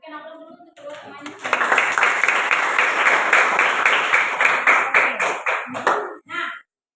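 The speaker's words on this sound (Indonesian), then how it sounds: "Berikan aplaus dulu untuk kedua temannya." A classroom of schoolchildren applauds two classmates with steady, dense clapping that lasts several seconds and ends in a few scattered claps. A little voice is heard just before the applause begins.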